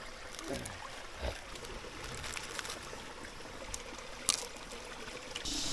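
A river flowing through broken, rocky channels in a shallow stream where freshwater prawns are caught, giving a steady broadband rush and trickle with small splashes. It stays fairly quiet and continuous, with no talking.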